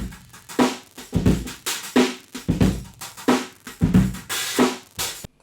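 Heavily processed drum room microphone track from an R&B mix, with a steady beat of punchy, loud, compressed hits ringing into thick, bright room wash throughout.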